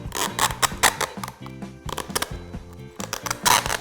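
Adhesive tape is pulled and wrapped around paper cups to join them together. It gives short ripping and crackling bursts in an irregular rhythm, heard close up.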